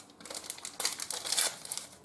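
Paper crinkling and tearing as a vanilla sugar packet is torn open while mixing a pineapple cake batter, close and crisp, a couple of seconds of rustling bursts.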